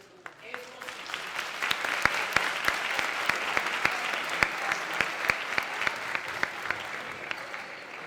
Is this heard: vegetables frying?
no